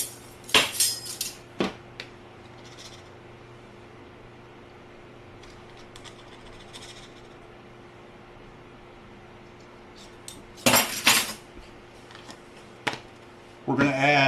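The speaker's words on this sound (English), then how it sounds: "If I can find my measuring spoons here." Metal measuring spoons and utensils clatter in a kitchen drawer during baking, in a few loud bursts of clinking separated by quiet stretches, close by with no talk.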